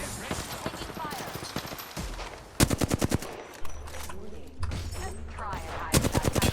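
Rapid bursts of automatic gunfire from a shooter video game, loud and close, arrive in several sharp rattling volleys with pauses between, mixed with game voice lines and other game sounds.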